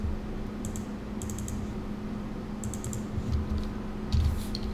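Keys tap out a short word on a computer keyboard during Revit modelling work, a few quick clustered clicks over a low steady hum, close and fairly quiet.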